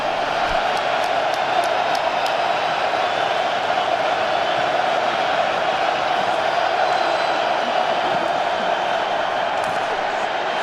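A large crowd roars continuously at an XFL football game, a loud sustained wash of cheering and shouting from a big stadium audience during a fourth-down play.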